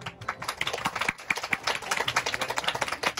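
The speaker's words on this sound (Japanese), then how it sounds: "今一度拍手をお送りください。" Guests at a Taiko flower-viewing tea ceremony event in Nagoya applauding, a fairly quiet scattered clapping with distinct individual claps in an uneven rhythm.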